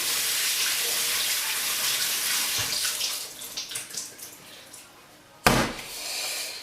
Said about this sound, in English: So under the tap we go.